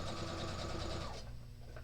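A sewing machine runs steadily as it back stitches on a two-toned tote bag, a close, continuous whir that slows and fades near the end.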